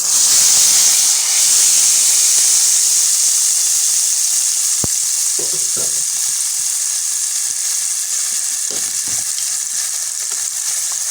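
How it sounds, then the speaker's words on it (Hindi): Loud, steady sizzling and crackling of cumin and green chillies tempering in hot oil for kadhi, continuous throughout with occasional small pops. "तड़का"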